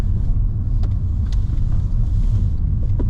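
A 2010 Mercedes-Benz E63 AMG engine gives a deep, steady low rumble close by, loud and continuous, with a few faint clicks and no talking.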